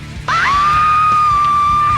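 A woman lets out a long, piercing scream in a horror movie scene, starting abruptly and holding one loud high sustained pitch throughout.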